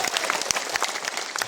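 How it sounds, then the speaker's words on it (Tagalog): Audience at a political rally clapping for a speaker, a short burst of scattered, moderately close handclaps. "Palakpak po natin siya."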